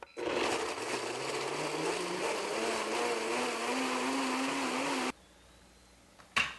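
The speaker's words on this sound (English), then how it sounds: "when I blend this, the cashews are going to whip up into this creamy, white, smooth consistency" A high-speed blender whirs cashews into cream, a loud motor roar rising steadily in pitch as the mix smooths out, then cutting off abruptly, followed by a short clunk.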